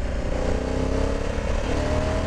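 Honda Africa Twin 1100 Adventure Sport DCT motorcycle engine pulling hard under acceleration off-road, a loud, steady, close-up roar with rising tone throughout.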